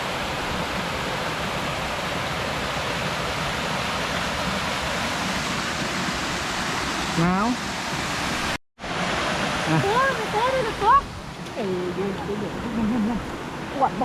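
Rushing water pours at Saengchan Waterfall (Long Ru waterfall) in Khong Chiam, Thailand, making a loud, close, continuous roar. After a brief cut, people talk over the water.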